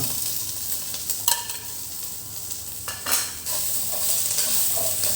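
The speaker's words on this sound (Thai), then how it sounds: "คั่วเครื่องแกงให้หอมก่อนนะครับ" Curry paste being stir-fried in a pan for a Thai three-flavour chili sauce, a steady close sizzle broken by a few sharp scrapes and clinks of a spatula against the pan, with no talking.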